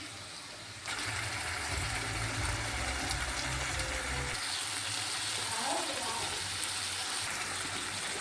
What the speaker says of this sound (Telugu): టమాటా వేసుకోవాలి దీనిని మళ్ళీ ఒక ఫైవ్ మినిట్స్ ఉడకనివ్వాలండి